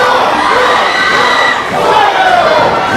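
A large wrestling crowd roars and chants in unison, counting along in a dense, loud wall of voices that swells and dips briefly before surging again.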